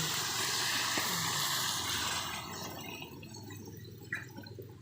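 Water pours into a cooking pot for Filipino sinigang soup, a steady broadband rush that fades and thins toward a few small splashes near the end, close and alone.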